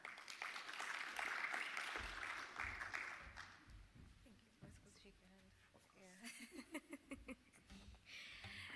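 An audience claps at a health tech panel during a Nairobi tech week event, a dense burst of applause for a few seconds that fades, followed by voices talking.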